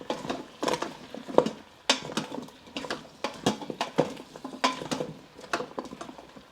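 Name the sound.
sauteing chicken thighs and potatoes in an Instant Pot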